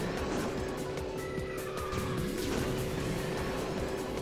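A kart double drift in the racing game KartRider Rush Plus: a steady engine drone with tire screeches and skidding, constant and fairly loud throughout.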